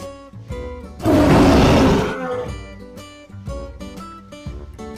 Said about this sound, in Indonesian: Delapan, harimau,